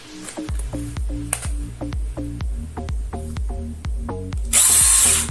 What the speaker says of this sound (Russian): С такой батареей пила работает ощутимо бодрее и дольше.